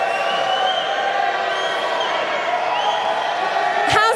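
Live audience at a Super Smash Bros. Ultimate UK Invitational event in London, a dense, sustained crowd roar of cheering and whoops holding steady throughout, with a sharp burst near the end.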